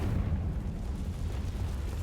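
A Confringo spell explosion in Hogwarts Legacy gives a deep, rumbling blast that stays loud and boomy throughout the short stretch, heavy on low roar.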